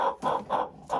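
Cobb 500 broiler chickens give several short clucking calls in a loose rhythm, close by and moderately loud with brief pauses between them.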